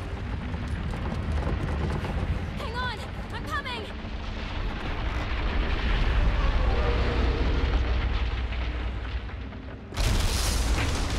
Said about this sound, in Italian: Una bella esplosione è stata, devo dire. Con la bomba fatta in casa hanno fatto un bel lavoro.